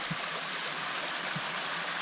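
Stream water runs in a forest above Denneoord, a steady broad rushing wash with no pauses and a couple of faint low knocks beneath it.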